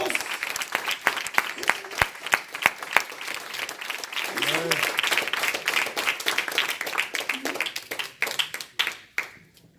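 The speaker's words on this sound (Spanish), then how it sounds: "Denle una ofrenda de aplausos a ese Dios." Congregation claps during a Pentecostal church service, sharp distinct hand claps over a steady bed of applause, with a voice briefly heard midway and the clapping thinning out toward the end.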